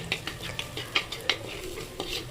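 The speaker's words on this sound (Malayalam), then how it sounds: "അതിലേക്ക് 3 സ്പൂണ് മുളക് പൊടി ഇട്ട് പച്ചമണം മാറുന്നത് വരെ ഇളക്കിക്കൊണ്ടിരിക്കുക" Chili powder is stirred into onions frying in a pan for a sardine curry, a run of quick spoon clinks and scrapes against the pan over a soft sizzle, up close.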